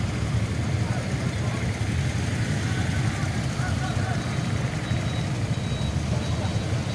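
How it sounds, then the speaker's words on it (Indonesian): Trucks and other vehicles climbing the hill road at Bukit Seumadam in Aceh Tamiang after a landslide: a continuous low engine rumble with steady road noise and a faint intermittent high beep, and people talking underneath. "Sementara truk-truk ini dan kendaraan lainnya ini akan menaik Bukit Semadam untuk menuju ke arah Sumatera Utara."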